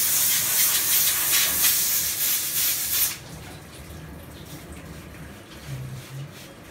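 A steam cleaner hisses loudly and steadily while treating a kitchen exhaust, then cuts to a much quieter, rougher low rumble after about three seconds.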